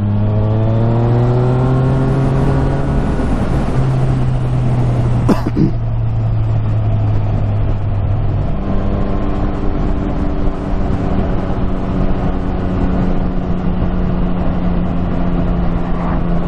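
Yamaha XSR900 motorcycle riding in fifth gear. Its engine drones steadily and rises as revs are added, then settles back to a smooth, constant hum.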